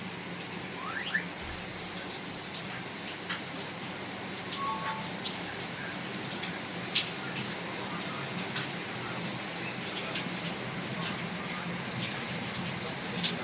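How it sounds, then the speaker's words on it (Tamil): Light rain falls steadily in the hills of Valparai, a soft continuous patter with scattered drops striking nearby surfaces and no voices. "அடுத்த செகண்ட் மழை பெய்யுது பாருங்கள்."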